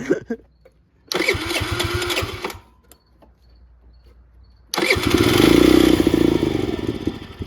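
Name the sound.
engine cranking but failing to start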